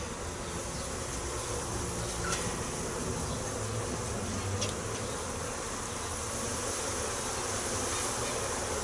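Honey bees swarm around an open hive box of simplex frames. Their dense buzzing hums close and continuous throughout.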